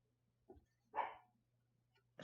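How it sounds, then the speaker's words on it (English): A dog barking outside, faint and distant, with three short barks spaced apart against a quiet background hum. "She's out there barking at whoever."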